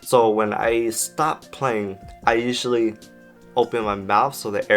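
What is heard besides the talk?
No distinct noise like a dog, phone or traffic.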